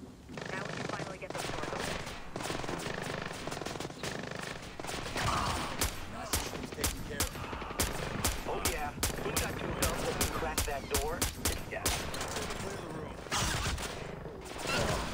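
Rapid bursts of gunfire in the video game Splinter Cell Blacklist, dense automatic fire and sharp shots crackling almost continuously at high level, with players talking underneath.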